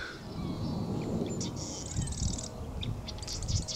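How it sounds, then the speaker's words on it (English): A bird calls near a pond on a quiet morning, brief high chirps and a short trill heard at moderate distance over a low outdoor rumble. "Is this a bird or a grasshopper? No, I think it's a bird."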